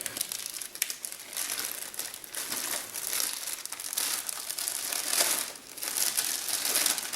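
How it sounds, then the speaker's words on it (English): A small black plastic bag from a French individual combat ration crinkles and rustles close up, with busy, uneven crackling bursts running throughout and no talking. "We have a little black plastic bag."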